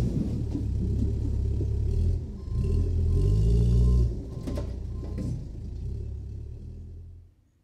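A bulldozer engine in a video game starts with a heavy low rumble and keeps running loudly, surging as it revs midway, then dies away at the end.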